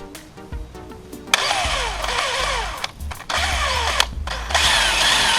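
A power drill whirs loudly in several bursts, its pitch rising and falling as it bites into a 2016 Motoped Pro 125cc frame for a footpeg bracket, with brief pauses between runs.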